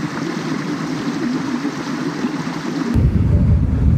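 Cold stream water rushes steadily across a water crossing near Medha waterfall in Songadh, a loud, close, unbroken wash that grows heavier and deeper toward the end.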